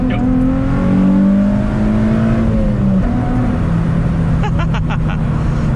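A modified 2005 Nissan 350Z with a VQ engine and a rolling anti-lag tune accelerates hard at full throttle, heard up close. The engine note climbs, drops briefly at a shift near the middle, then pulls again, loud and steady throughout.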